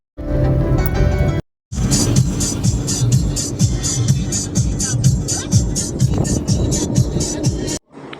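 A large car driving along a road, its engine and road noise rumbling steadily with rhythmic thumps, interrupted by short gaps, with people talking over it.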